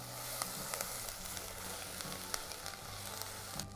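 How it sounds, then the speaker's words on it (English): Steady sizzle of leftover wine deglazing a hot pan of onions, a continuous frying hiss with small crackles and pops throughout, close and moderately loud, no talking. "have a little bit of last night's leftover wine ready to deglaze the pan"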